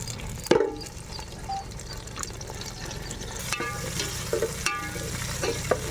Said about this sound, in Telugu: ఇప్పుడు కొంచెం జీడిపప్పు కూడా వేసేసుకుందాము.